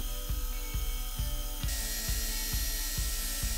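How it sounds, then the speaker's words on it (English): A power sander smooths a curved wooden rail for a saddle bar stool, running as a steady mechanical whir with a regular rhythmic pulsing as it passes over the wood, close and alone, brightening partway through. "cleaned it up to the line with a sander."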